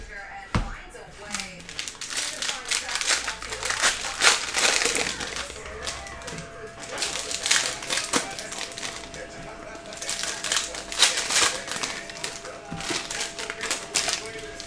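A 2019-20 Panini Mosaic basketball cello pack is torn open with close crinkling and crackling plastic in short repeated bursts, while someone talks over it.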